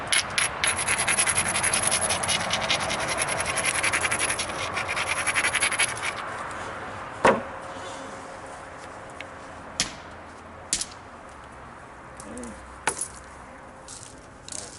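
Flint being knapped at the base of an odd piece of Flintridge flint with quartz, first a dense run of scraping, abrading strokes for about six seconds, then a handful of separate sharp ticks and taps spaced out over a quieter background.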